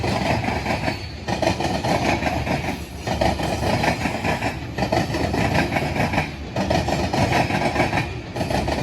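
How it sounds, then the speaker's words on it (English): Freight train 206 rolling along the old Conrail line near Marion Yard, Ohio, a loud steady rumble of passing cars with faint clickety-clack and dips in level, alone without voices. "we got a train coming in on the old Conrail line, 206 I believe"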